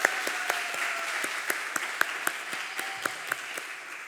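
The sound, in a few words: church congregation applause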